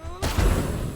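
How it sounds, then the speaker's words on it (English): A single heavy blast from a bomb in Hand of Fate 2 bursts in suddenly after a brief quiet moment, loud and close, with a booming low rumble that lingers and decays through the rest of the moment. "We do have bomb. Bomb!"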